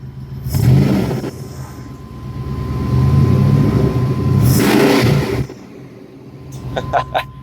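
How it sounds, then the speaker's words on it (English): A 1997 Chevy Silverado pickup engine, a Chevrolet truck of the OBS generation, revs twice with the gas pedal tapped, each rev swelling loud and close before dropping back to idle, with a faint rattle near the end. "I'll tap the gas pedal for y'all to give y'all a couple of revs just to show y'all what this sounds like."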